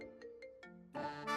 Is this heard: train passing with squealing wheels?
no